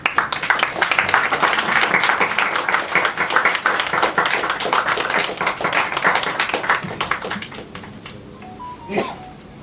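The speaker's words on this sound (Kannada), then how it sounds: "ಎದ್ದು ನಿಂತ್ಕೊಂಡು ನಿಮಗೂ ಒಂದು ಚಪ್ಪಾಳೆ ಕೊಡಕ್ಕೆ ಇಷ್ಟಪಡ್ತೀನಿ" An audience claps steadily at a thanksgiving event for the Kannada film Yuddhakanda, the dense applause holding loud for about eight seconds before thinning out, with a brief burst of voices near the end.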